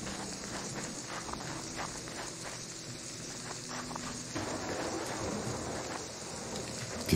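Rain storm in the video game Wrongworld, steady patter of rain on surfaces with a low rumbling undertone, moderately loud and constant, ending with a sharp louder burst.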